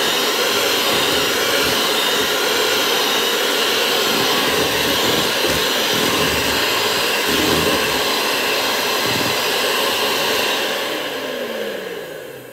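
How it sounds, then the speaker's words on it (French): An electric whisk beats cupcake batter while milk is added bit by bit, giving a loud, steady whirring drone that runs unbroken and then fades toward the end. "je vais ajouter le lait petit à petit tout en continuant à fouetter"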